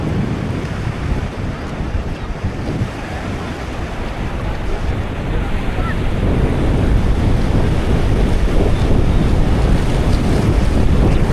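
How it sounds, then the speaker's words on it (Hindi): Sea waves wash in and break at Patong Beach, Phuket, a steady surf roar mixed with wind buffeting the microphone, growing slightly louder toward the end, with no talking. "वेव्स को रिसीव करना आके टांगों पे लगती हैं, मज़ा आ जाता है।"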